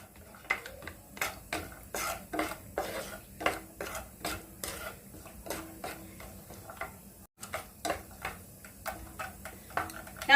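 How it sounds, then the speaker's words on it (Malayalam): Cashews and raisins roast in ghee in a pan, stirred with a spoon that clinks and scrapes against the metal in a quick steady rhythm over a faint sizzle, close and alone. "ഇതിലേക്ക് ഒരു 3 ടേബിൾ സ്പൂൺ അണ്ടിപ്പരിപ്പും 3 ടേബിൾ സ്പൂൺ കിസ്മിസും കൂടിയിട്ട് ഒന്ന് വറുത്തെടുക്കണം ബാക്കിയുള്ള നെയ്യില്"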